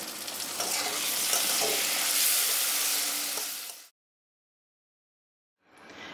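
Garlic paste and tomato sizzle and fry in a pan for a Bengali banana stem dish, a loud, steady crackle with stirring scrapes that cuts off abruptly and returns briefly at the end.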